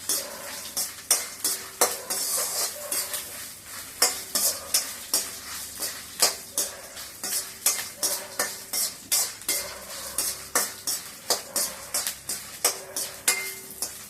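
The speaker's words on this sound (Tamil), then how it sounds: "பெருங்காயம் சிம்மில் வச்சு நல்லா சிகப்பாக வறுக்கணும்" Asafoetida roasting on low heat in a pan: a spoon scrapes the pan in a steady, rhythmic stirring pattern over a soft, continuous sizzle.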